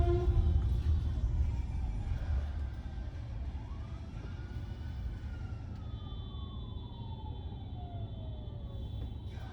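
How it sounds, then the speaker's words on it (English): A fire truck siren wails in traffic on a commute from downtown Los Angeles to Pomona, its pitch sweeping up and down steadily above the low rumble of the car's cabin and surrounding road noise. "Where's that siren coming from? Oh, fire."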